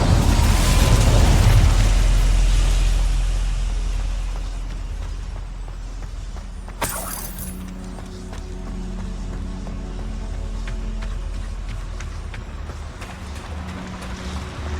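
Incendio fire spell cast in Hogwarts Legacy: a loud, roaring burst of flame at the start fades into a steady rumble, then a second sharp flare erupts midway before the fiery hiss settles.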